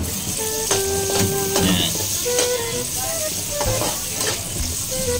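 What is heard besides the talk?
onion frying in pan with ginger and garlic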